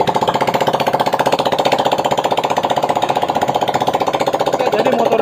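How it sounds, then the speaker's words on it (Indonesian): Honda Vario 150 scooter engine running after being started, a fault-prone bike awaiting teardown; a loud, close, rapid rhythmic chugging idle that holds steady throughout with no talking. "Oke, jadi motor ini nyala ya kawan ya."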